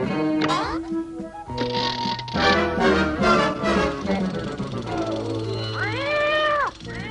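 In a 1990s cartoon, a mechanical cat gives a drawn-out, wavering meow near the end, with dialogue and music playing beneath it.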